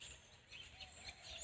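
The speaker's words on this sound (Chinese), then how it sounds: "大家听这个声音就知道了， 鸟叫的声音。" Many birds chirp faintly and far off from trees around a rural Chinese village at night, thin high tweets scattered over a soft constant background hum.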